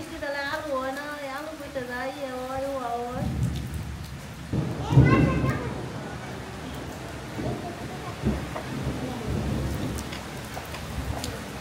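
Steady rain falls on an outdoor farm during a rare winter shower, with a soft, continuous patter, a low rumble of thunder and a louder gusty swell midway, while people talk nearby.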